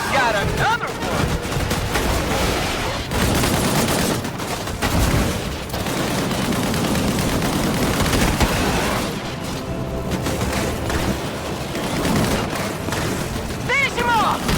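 Dense gunfire in the sci-fi combat game Disintegration, a continuous mix of shots and booms forming a loud, busy battle din throughout, with voices calling out over it.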